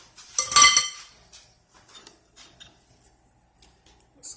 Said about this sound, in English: Just cleaning off my beaters a little bit.